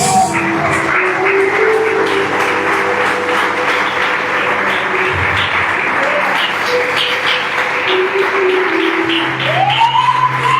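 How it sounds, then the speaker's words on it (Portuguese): A church congregation applauds during a sermon, a loud, steady wall of clapping lasting the whole stretch, with voices and a sung or called-out tone rising above it near the end. "Quem está ouvindo a palavra de Deus pode aplaudir a Jesus."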